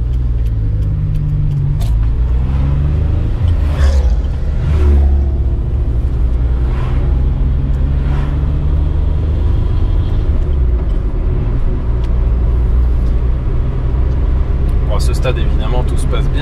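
A barn-find Maserati Biturbo on the road for its first real drive. Its engine gives a steady, close, low rumble throughout, with slight swells in revs and faint wind and road noise.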